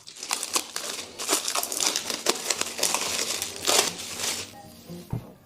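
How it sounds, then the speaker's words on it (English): Plastic wrap being peeled off a block of glycerin soap base, close crinkling and crumpling in irregular bursts with brief pauses, ending in a soft thud. "it still has plastic wrap, so I'm going to take it off"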